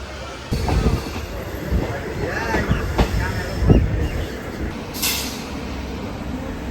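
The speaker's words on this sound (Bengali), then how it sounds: "বর্তমান কিন্তু ট্রেনটা অনেক স্লো ভাবে আসতেছে" A train rolls slowly around a curve on an Indian railway, with rhythmic wheel clacks, squeals and low rumbling heard close up, plus some faint voices in the background.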